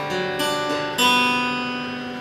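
Guitar playing the first part of a song's intro, a few ringing strummed or plucked notes close up, sustained and alone with no voices.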